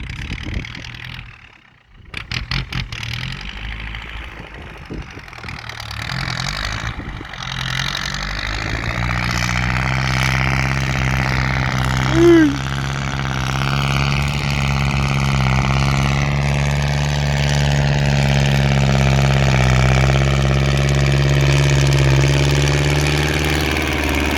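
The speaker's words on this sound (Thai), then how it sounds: "รถไถซิ่งมาดัน" A Kubota L5018 compact tractor's diesel engine turns over and settles into a steady, close idle with a constant low hum that holds for over twenty seconds, no voices.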